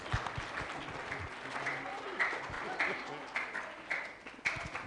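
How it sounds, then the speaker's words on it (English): Applause from the audience at a plenary session of a scientific conference, moderately loud clapping continuing throughout with a few sharper claps, voices murmuring underneath. "je voudrais demander à la séance d'applaudir beaucoup pour tous ceux qui viennent"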